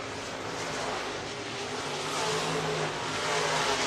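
Race cars run on the dirt track at Stuart International Speedway in Iowa in an IMCA race, a steady, loud engine roar that swells slightly without letting up.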